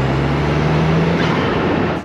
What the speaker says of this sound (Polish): słychać tutaj dolot